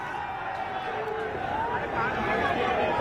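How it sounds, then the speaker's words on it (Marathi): Cricket fans celebrate India's win over Pakistan in Laxmi Bhuvan square in Nagpur, a dense, steady outdoor crowd roar of cheering and chatter that swells slightly toward the end. "या ठिकाणी मोठ्या प्रमाणात जल्लोष होताना आपल्याला बघायला मिळतोय"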